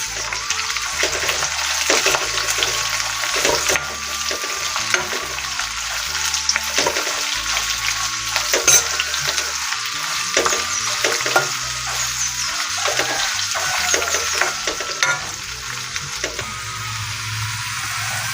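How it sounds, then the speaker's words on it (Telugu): Dried red chillies and curry leaves fry in hot oil with a steady crackling sizzle while a spoon stirs in repeated scraping strokes, close and fairly loud, with no voices. "ఎండుమిర్చిని కూడా వేసుకోవాలండి అదేవిధంగా రెండు రెమ్మల కరివేపాకు కూడా వేసుకోవాలి వేసుకొని మరొకసారి కలుపుకోవాలండి"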